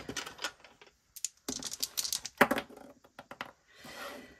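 Several short bursts of clattering and rattling, like dice shaken and tumbling across a board, with brief pauses between rolls.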